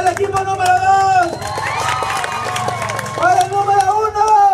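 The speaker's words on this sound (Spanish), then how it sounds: "fuerte los aplausos para ambos" Audience at a live team contest cheers and applauds over a sustained crowd roar, with loud shouting voices and whoops riding on top throughout.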